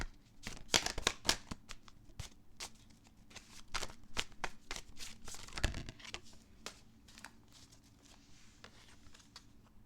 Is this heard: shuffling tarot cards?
yes